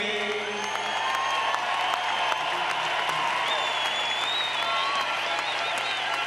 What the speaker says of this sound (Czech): ještě jednou potlesk pro oba pány